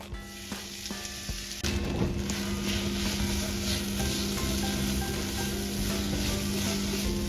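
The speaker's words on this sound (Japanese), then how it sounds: "中火から強火でしんなりするぐらいまで炒めていきます。" Potatoes stir-fry in olive oil in a hot pan over medium-high heat, a steady close sizzle that jumps louder partway through as the food goes in, with occasional utensil scrapes and no talking.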